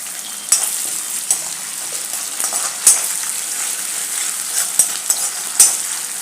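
Steady hissing sizzle of tomatoes frying in hot tempering oil, with occasional sharper pops and crackles throughout; close and continuous.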